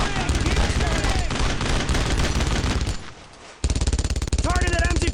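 Sustained World War II gunfire in the video game Brothers in Arms: Road to Hill 30, with rapid rifle and machine-gun bursts firing loud and close almost continuously, a brief lull, then a renewed volley, with shouting voices mixed in.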